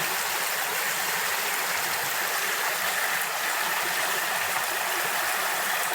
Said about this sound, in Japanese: すげえ清流、水の音が美しい。